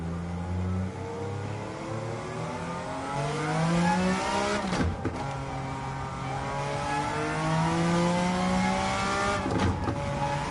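A high-performance car in Gran Turismo 7, fitted with a swapped 1,100-horsepower engine and running near 190 mph, wails loudly and steadily as its revs climb, with two sharp upshifts breaking the rising whine. No one speaks.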